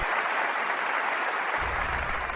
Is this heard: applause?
yes